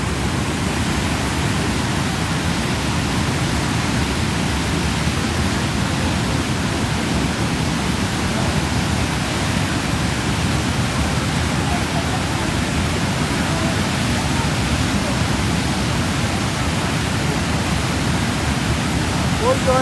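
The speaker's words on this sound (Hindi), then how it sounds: "ये दरिया जो है अपने साथ लेके ये मनूर नाला है जो वादिया मनूर से आ रहा है" The Manur Nala, a swollen mountain stream flowing down from the Manur valley, roars as a loud, unbroken broadband rush of water that persists throughout, and a voice can be heard talking faintly over it.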